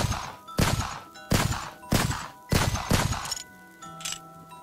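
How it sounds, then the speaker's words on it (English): Six loud gunshots fired at a camera in a video game, evenly spaced about half a second apart, each with a short decaying tail, followed by a quieter mechanical hum and a faint final thud. "I'm just gonna shoot it."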